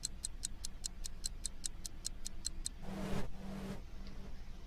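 A wound clock ticks in the video game Knock-knock, about a dozen crisp, evenly spaced ticks at a quick steady pace, then a brief burst of noise with a low tone takes over as the ticking stops.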